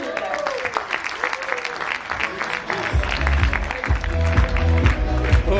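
An audience applauds a speaker named Mr. Peter at a Crowd1 leaders' event on a cruise, with dense sustained clapping and crowd noise, while loud low music thumps in from about three seconds on.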